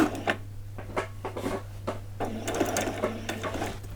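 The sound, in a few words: sewing machine sewing scrubs bodice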